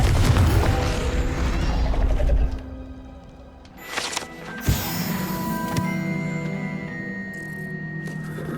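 Confringo fire spell cast in Hogwarts Legacy, a dense rumbling burst followed by sharp crackling pops and a ringing tonal tail, with pigeons cooing nearby.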